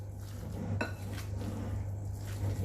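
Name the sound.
spoon mixing turkey mince with oil in a bowl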